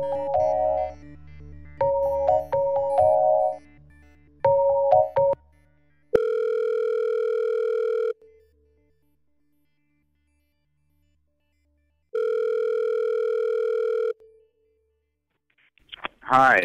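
Steady telephone dial tone after a cut-off call, sounding loud and alone in two long bursts of about two seconds each with silence between, preceded by a few seconds of talk and other noise.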